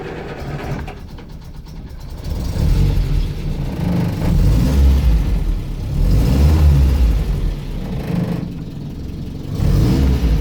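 A 1980 Land Rover Series 3 109 engine idles and revs in a low, steady rumble, rising and falling in surges close by, with no talking.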